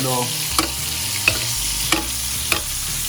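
A T-bone steak sizzles steadily in a hot pan with butter and garlic, broad frying hiss throughout, punctuated by four sharp spoon clinks and splashes as it is basted at a quick, even pace.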